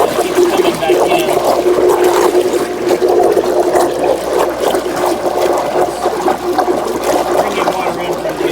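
Pool skimmer with a faulty internal o-ring drawing water in, a steady close rushing and gurgling flow with a person talking over it.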